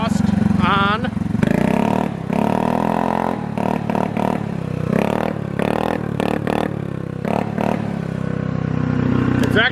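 A Honda Navi motorcycle fitted with a Vance and Hines performance exhaust revs in short repeated bursts, buzzy and close, with clattering workshop noise from dyno testing and someone talking over parts of it.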